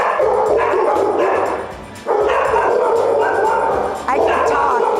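Many dogs in an animal rescue shelter bark and yip loudly and continuously at close range, a dense overlapping chorus with only brief dips in the din.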